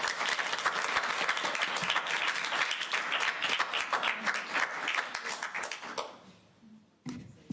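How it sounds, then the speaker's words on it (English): A conference audience at a 2023 library open-infrastructure gathering gives a round of applause for a presenter. The thick, crowded clapping runs strongly for about six seconds, thins and dies away, then a short final burst of claps follows. "how about one more round of applause for our presenter?"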